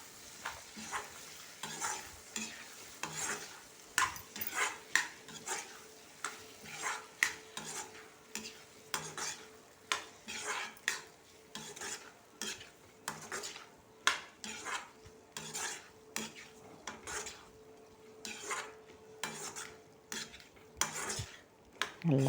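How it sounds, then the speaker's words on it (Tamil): Three chopped tomatoes sizzle in a frying pan for chicken curry while a spoon stirs and scrapes against the metal in a steady rhythm of clinks, close up with no talking. "நல்லா பரட்டி விட்டுக்குவோம்."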